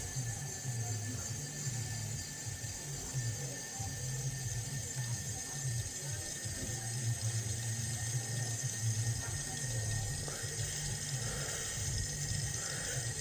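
Gas hisses steadily and quietly through an adapter into a canister, a continuous thin rush with a faint whistling tone, close by.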